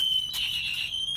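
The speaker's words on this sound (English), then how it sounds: "But the further you go, it's going to set an alarm off." A Bird electric scooter's anti-theft alarm blares as a steady, piercing high-pitched electronic tone, loud and continuous with a slight wavering swell partway through, heard alone without speech.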